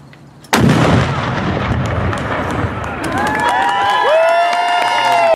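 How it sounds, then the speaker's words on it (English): A single loud, sudden howitzer cannon blast at a ceremony cuts through a quiet moment, followed by a lingering rumble, crowd noise and whistling cheers. "A World War II veteran shot off a cannon at the ceremony"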